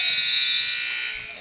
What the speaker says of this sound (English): Litcher couldn't get a shot off at the buzzer.